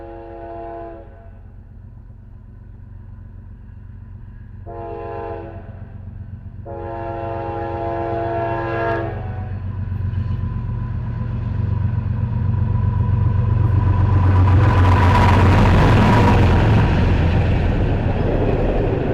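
A train on Central Ohio rails sounds its horn in three loud blasts, the last one long. The rumble and clatter of the passing cars then grows into a heavy roar as the train draws near.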